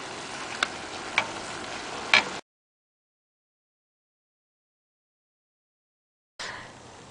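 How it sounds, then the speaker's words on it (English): Shrimp and broccoli sizzle in boiling, thickening sauce in a wok, a soft close crackle with a few sharp utensil clicks, broken by a long silent gap before the sizzling returns briefly. "once your sauce starts to boil and thicken, then you can go ahead and add in the shrimp back into the wok"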